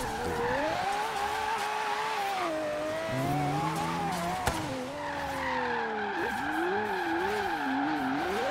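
A Lamborghini built as a replica of Daigo's drift car slides through a long drift in Forza Horizon 3. The engine note holds and wavers while the tires squeal continuously, with the pitch bending as the slide shifts.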